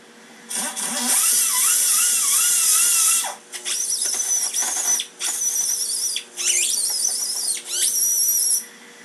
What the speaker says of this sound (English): I'm doing it with a grinder, obviously, because I have air tools here